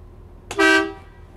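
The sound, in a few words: school bus air horn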